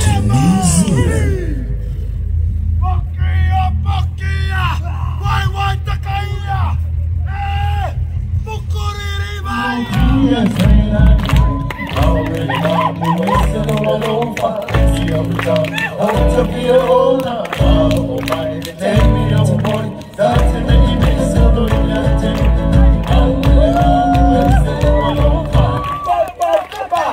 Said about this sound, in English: the Maori of New Zealand welcome you with the haka, used to instill strength and courage before entering battle